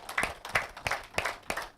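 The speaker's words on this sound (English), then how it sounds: "So like this, and clap along with me." An audience claps along in a steady rhythm, with five or six distinct hand claps evenly spaced about a third of a second apart. The claps are fairly faint and have no talk over them.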